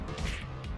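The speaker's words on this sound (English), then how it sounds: "They're just smashing her up too." Smashing blows land in a movie fight scene, a short dull crashing thump with a brief swish, heard alone.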